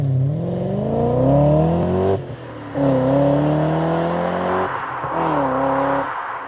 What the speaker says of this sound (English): you want to enjoy that funky V8 bark